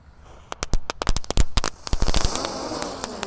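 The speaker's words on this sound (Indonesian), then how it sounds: "selanjutnya kita akan menyalakan, ini ada gangsing super 3 warna" A three-colour spinning gangsing firecracker goes off in a rapid burst of sharp, loud pops and crackles, the cracks coming close together and building into a dense sizzling crackle near the end.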